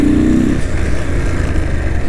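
A motorcycle threads through a traffic jam, its engine running loud and close with a rough, steady drone and slight fluctuations as it moves between stalled vehicles.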